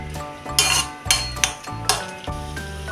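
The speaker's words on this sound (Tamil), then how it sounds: "முந்திரி பருப்பை லைட்டாக வறுத்துக்கணும்" A metal spoon clinks and scrapes against a pan as a few cashew nuts, with cinnamon, cloves and cardamom, are stirred while lightly frying in oil, with several sharp taps over a soft sizzle.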